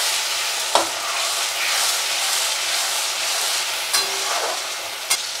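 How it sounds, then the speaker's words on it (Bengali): Sliced onions and two medium chopped tomatoes fry in a pan for chole curry, giving a loud, continuous hiss and sizzle with a few sharp clinks of a spoon stirring. "পেঁয়াজগুলো মোটামুটি ভাজা হয়ে এসছে। এবার ওর মধ্যে আমি টমেটোগুলো দিয়ে দিলাম।"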